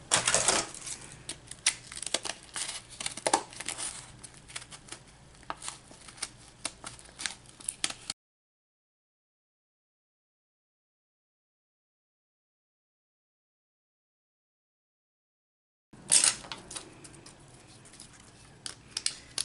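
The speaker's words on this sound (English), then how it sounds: "So let me use my big scissors." Crisp snipping and rustling of scissors through paper, repeated in quick irregular bursts, then a long stretch of silence before the cutting resumes.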